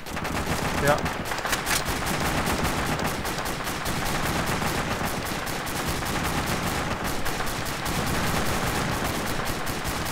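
Dense gunfire from Arma 2 Operation Arrowhead in a co-op mission, continuous loud bursts of rifle and automatic fire crackling throughout with a voice briefly audible underneath.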